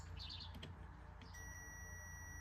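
A multimeter gives a continuity beep while testing a 15 amp 3-pole circuit breaker: a steady, thin electronic tone starts partway through and holds over a low background hum.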